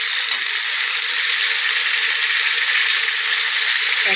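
Ridge gourd and potato pieces frying in hot oil in a pan, a loud steady hiss and sizzle running continuously and close throughout.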